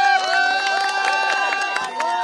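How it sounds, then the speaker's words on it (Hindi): Cricket fans in a dense crowd in Mumbai, celebrating India reaching the World Cup final, cheer and shout together in a loud, continuous roar with voices rising over one another. "डैरिल मिचेल का तालियां।"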